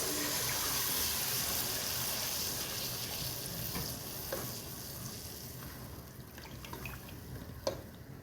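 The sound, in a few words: stirring egg and semolina halwa in a pan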